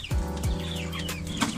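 Broiler chickens on a farm, ready for harvest and about two kilos each, cluck and call close by in a flock of around three hundred birds, with overlapping squawks and a steady murmur of clucking.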